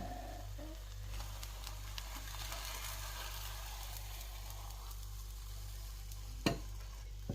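Steady sizzling of an omelette frying in a hot pan, a constant close crackle with a brief clatter near the end.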